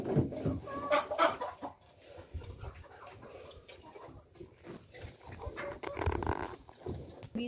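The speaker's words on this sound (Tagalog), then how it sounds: "Yung mga manok nandun din sa likod, kumakain na din." Farm chickens cluck while feeding out back, intermittent clucks and rustling at close to moderate distance, with other livestock such as pigs faintly present.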